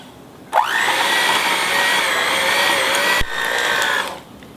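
An electric hand mixer beats cold butter cut into small pieces for nastar cookie dough, a loud steady motor whine switching on abruptly, dipping once briefly, then cutting off.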